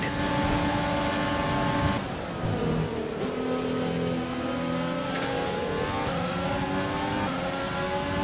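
A Formula One race car in the F1 2020 video game, racing at the Italy round, screams through rising gear changes: a loud, continuous high-revving engine whine that dips briefly at each shift before climbing again, with no voices.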